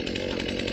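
A Stihl or Husqvarna chainsaw running at full throttle while cutting wood during county crew chainsaw safety training in Steuben County, New York, a loud continuous buzzing roar with no pause.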